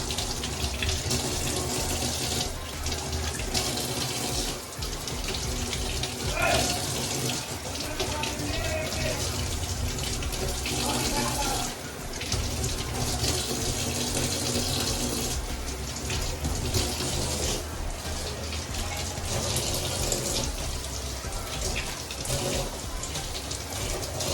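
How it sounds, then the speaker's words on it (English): Tap water running steadily over grapes, bananas, carrots, tomatoes, watermelon and muskmelon being washed, a continuous splashing hiss with small clatters and shifts as the produce is handled. "First of all, we will wash them under running water."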